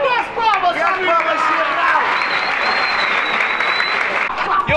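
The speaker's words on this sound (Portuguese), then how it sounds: "Cadê as palmas, amigo?" A crowd at a freestyle rap battle applauds and cheers loudly and steadily, with a voice speaking and shouting over the noise at the start.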